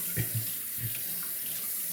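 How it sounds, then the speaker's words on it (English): Water pours from a tap to wet a Japanese natural whetstone used for honing a straight razor, a steady close splashing stream with a few spattering bursts at the start. "let me wet the stone a little bit more."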